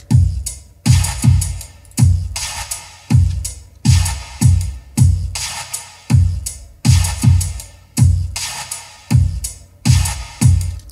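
Imported drum loop at 80 BPM plays back in Cubase on its own, a steady pattern of punchy low kicks and bright snare or hi-hat hits repeating in an even groove, loud and up close.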